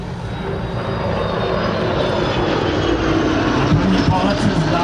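Aero L-39 jet trainer flying at a Czech airshow, a loud steady engine roar that swells slightly toward the end, with a voice commentating over it.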